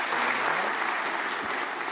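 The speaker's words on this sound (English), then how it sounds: "Give it a big round of applause." Audience applause fills a conference breakout room after a cloud sustainability talk at FinOps X 2024, a dense, steady wash of clapping held throughout, close and even in level.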